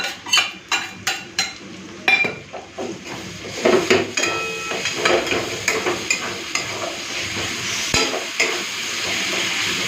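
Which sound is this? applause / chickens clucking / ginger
ginger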